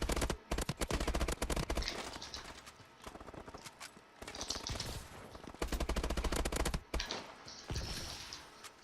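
Rapid bursts of gunfire in the Exo Survival mode of Call of Duty: Advanced Warfare repeat in sharp clusters with brief gaps between them, loud and close, over a steady background.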